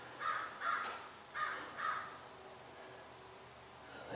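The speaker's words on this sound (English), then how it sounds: "There's that crow." Four harsh caws from a crow ring out in an uneven series, fairly distant over a faint outdoor hiss, then quiet.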